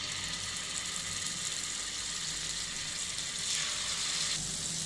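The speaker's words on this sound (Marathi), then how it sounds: "आणि आता आपल्याला हे फ्राय करायचं. गॅस मोठा करून." Chicken pieces for butter chicken fry in a pan over a high gas flame, giving a steady close hiss and crackle with no talking.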